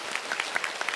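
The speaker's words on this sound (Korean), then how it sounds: "우리 박수로 함께 크게 사랑하며 축복하겠습니다." A church congregation claps together during a Korean Parents' Day worship service, a brief burst of dense, even applause from a full room.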